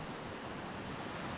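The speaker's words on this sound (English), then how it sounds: "The creek." Water flowing in a mountain creek near a campsite on Mt Hood, a steady broadband rush that fills the clip at close range with no voices.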